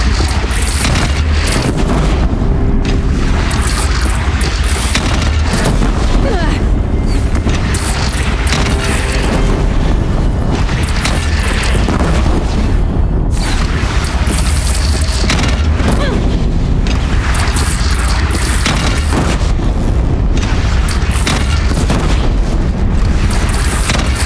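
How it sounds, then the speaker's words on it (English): Heavy cannon fire from a bandit clan's single cannon in the video game Horizon Zero Dawn, deep booming blasts repeating loudly over a dense, continuous battle din with voices mixed in. "They only have one cannon!"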